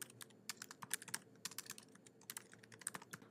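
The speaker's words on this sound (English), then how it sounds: "I'm going to type in my blog address." A web address is typed on a computer keyboard: quick, irregular bursts of close, crisp key clicks carry on for a few seconds, quiet overall and with no voices.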